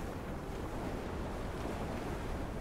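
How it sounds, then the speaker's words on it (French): Wind howls in the snowy Arctic setting of the Never Alone video game, a steady, loud, broadband rush that holds without a break and carries no speech. "Mais le vent de merde!"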